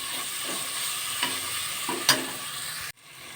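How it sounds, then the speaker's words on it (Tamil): Ginger garlic paste with tomato frying in a pot for a simple kuska, plain empty biryani, stirred with a few scraping strokes over a steady close sizzle, ending in a sudden cut. "இப்போ இஞ்சி பூண்டு பேஸ்ட் நல்லா வதங்கிடுச்சு"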